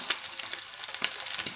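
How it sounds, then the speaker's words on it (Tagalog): An egg fries in a pan, its edges browning and burning: a soft, continuous sizzle with scattered small crackles and pops, fairly faint and close. "Prito ako ng itlog."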